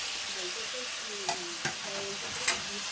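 Snake gourd is stirred into spices in a pan, producing a soft, close sizzle with a few sharp scrapes and clicks from the spoon against the pan.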